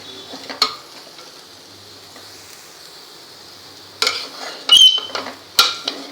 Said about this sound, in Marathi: ही वांगी 1 मिनिटभर या मसाल्यात परतायची आहे.